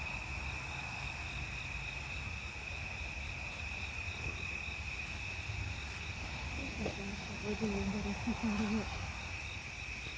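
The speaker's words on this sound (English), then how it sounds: "Hey, it's a cricket." A steady high-pitched cricket trill rings on continuously, fairly faint, while a voice briefly speaks near the end.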